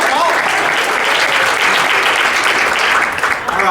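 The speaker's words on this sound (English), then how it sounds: "Give her a round of applause." Audience applause at a motivational talk, a dense, steady wash of many hands clapping at close range, loud and sustained throughout with a faint murmur of crowd beneath.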